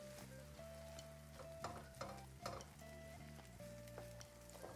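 Frico cheese sizzles and fries in a pan while a utensil stirs it, giving soft irregular scraping and crackle over a steady hiss throughout, with a faint tone in the background.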